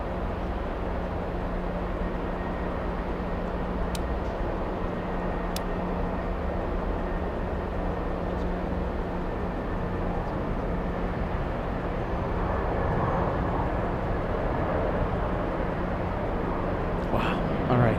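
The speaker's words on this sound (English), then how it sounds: "Qatar lands in Boston first." A Qatar Airways airliner landing at Boston Logan airport makes a sustained low roar that swells slightly toward the end, with voices talking over it.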